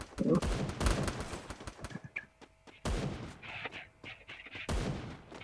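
Video game gunfire comes in several loud bursts of rapid shots, separated by short quieter gaps, with faint background sounds between volleys.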